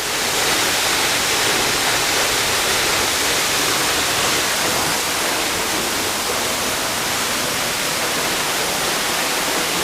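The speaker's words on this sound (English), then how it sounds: "But that's a lot of water going off." Tada Waterfall in Cambodia, with water pouring over a ledge as a dense, steady roar that fills the clip at constant loudness, close and with no talk.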